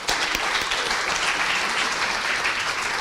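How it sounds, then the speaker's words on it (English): An audience at an awards recognition event breaks into sustained, full applause, an even roar of many hands clapping at close range throughout. "Could we have a further big round of applause for Margaret?"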